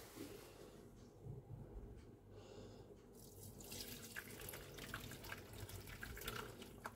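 Curdled milk for paneer being strained in a kitchen sink, with steady running and splashing water that grows louder and brighter midway, pouring continuously without speech.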